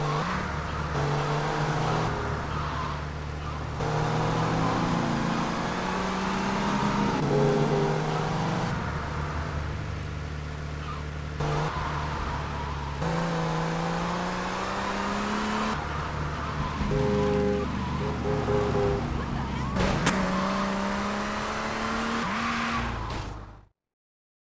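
Car engine driving in GTA: Vice City Stories, humming steadily and rising in pitch through repeated gear changes. Close and continuous for over twenty seconds, then cutting out abruptly.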